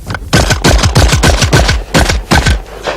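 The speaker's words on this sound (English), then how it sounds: "There's 7 clay targets with the Benelli shotgun." A Benelli shotgun fires in a rapid string of about ten sharp, loud shots at clay targets, closely spaced with brief gaps and no talking.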